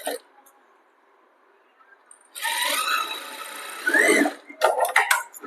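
A sewing machine runs in short bursts while stitching a front-open kurti, a whirring, rattling hum that starts and stops close by, with speech around it.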